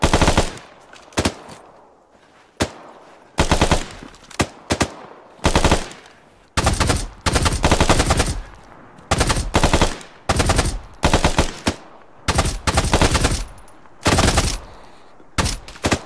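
Gunfire in the military game Arma: repeated loud bursts of automatic weapon fire, some short and some sustained, separated by brief gaps, close and dominant throughout.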